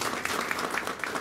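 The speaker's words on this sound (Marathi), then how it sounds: "आपण त्यांच्यासाठी टाळ्या वाजवूया" Applause from an audience at a Marathi women's honour ceremony, dense steady clapping throughout, fairly loud and with no talk over it.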